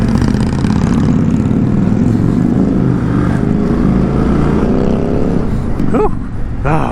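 An Indian Scout 101 motorcycle on a test ride, its engine droning loud and steady under heavy wind rush, with the revs climbing sharply near the end.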